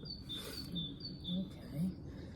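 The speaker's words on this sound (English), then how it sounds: "all you can hear at the moment is like birds. It's just tweeting" Small birds tweet outdoors in short, faint high chirps repeating every half second or so, over a soft hum of distant background noise in an English garden setting.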